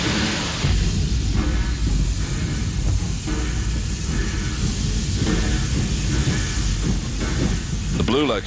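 Steam locomotive running on the Zig Zag Railway in the Blue Mountains, New South Wales: loud, continuous roaring hiss of steam with rhythmic chuffing pulses, close by and filling the whole stretch.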